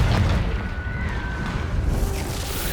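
A Confringo blasting curse explodes in Hogwarts Legacy, a loud sustained booming rumble with a whistling streak through it, no voices.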